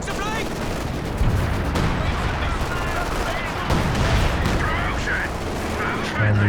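Artillery and gunfire in the Company of Heroes 2 strategy game during a 2v2 match, a dense, continuous roar of shots and booms filling the whole stretch, loud and steady with faint talk underneath.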